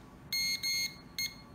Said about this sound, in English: And it'll be two beeps. This is three beeps.